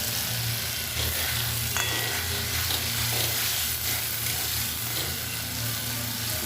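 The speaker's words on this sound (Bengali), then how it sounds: "ভেজে রাখা চিংড়িটা দিয়ে দিই।" Pre-fried prawns for a jackfruit and prawn curry hiss in a pan under a dense, continuous sizzle with a low steady hum, stirred now and then; close and even throughout, with no voices.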